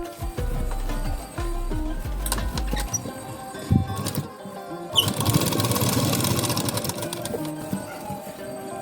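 An electric sewing machine stitches a blouse sleeve and side seam, its rapid needle chatter running in short close bursts, followed by a longer, steadier whirring run.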